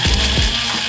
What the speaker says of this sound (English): throwing it in the Epic Spice Grinder and let's go